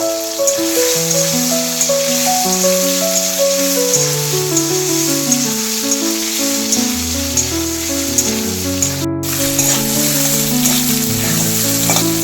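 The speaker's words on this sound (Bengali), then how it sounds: "তেল গরম হয়ে আসছে, এবার আমি সয়াবিনগুলো ভেজে নেব।" Soya chunks coated in salt, turmeric and cornflour fry in hot oil, a loud, steady sizzle and crackle close up that runs without a break and has no voices over it.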